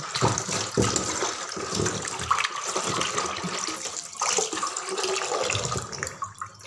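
Fish being washed in water, with splashing, sloshing and running water in uneven bursts close by, and no talking.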